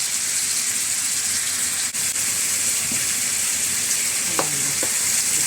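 Onion, garlic and tomato sauté in a hot pan, a steady loud sizzle and hiss throughout with a few soft stirring scrapes near the end.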